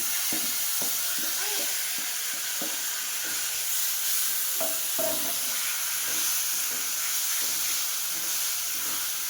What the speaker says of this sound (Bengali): পেঁয়াজ আর টমেটো পেস্ট এটাও দিয়ে দিলাম